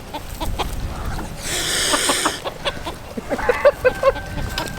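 Geese and ducks honk and call close by, with a long harsh burst of honking followed by a run of short clucking calls over a rumbling outdoor background.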